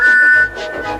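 A steam engine's whistle from Thomas the Tank Engine gives two short peeps, a steady tone followed by a second burst, loud and close over a narrated story.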